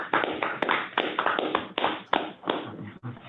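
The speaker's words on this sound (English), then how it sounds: "I am going to ask for a round of applause for the work of the Children's Advocacy Center" A round of applause at a county fiscal court meeting, several people clapping nearby in a short, uneven burst of sharp claps that trails off after a few seconds.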